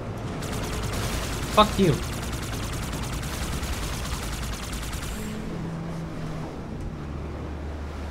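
Rapid, continuous automatic gunfire rattles through a Halo 2 firefight, a steady dense stutter of shots under engine hum, with a player's brief spoken curse partway through.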